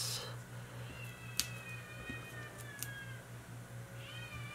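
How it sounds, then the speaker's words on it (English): A kitten meows faintly in the background several times, thin, drawn-out cries against a steady low hum of room noise, with a couple of soft knocks between. "I don't know if you can hear my kitten in the background."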